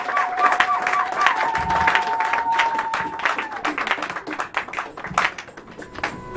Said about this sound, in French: Donne des acclamations à Jésus.